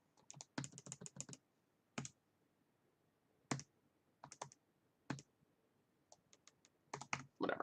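Numbers typed on a computer keyboard: sharp clicking keystrokes in quick bursts, then single scattered taps with short pauses, close and fairly quiet, no talking.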